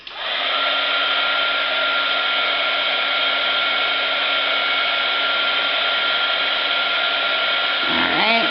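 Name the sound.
heat tool drying watercolor coffee filter flower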